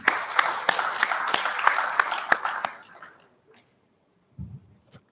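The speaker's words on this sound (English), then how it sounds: "applaud the INEC chair again." Audience applause at the opening session of an annual summit of political parties and stakeholders, a moderately loud wash of clapping with sharp individual claps that fades out after about three seconds, followed by quiet and a brief low sound.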